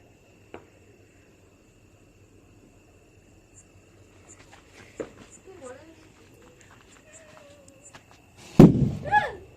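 A Diwali firecracker bomb bursts with one loud sharp blast near the end, after quiet moments of scattered small pops, footsteps and voices.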